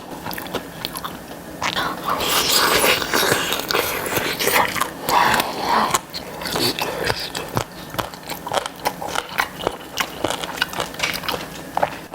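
Someone eating spicy fried chicken and sweet potato pizza up close, with crisp bites and irregular crunchy chewing that comes in bursts, brief soft vocal sounds between mouthfuls.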